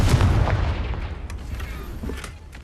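A Confringo blasting spell explosion in Hogwarts Legacy, a heavy, booming blast at the start that rolls off into a decaying rumble, with a few faint pops and crackles trailing after.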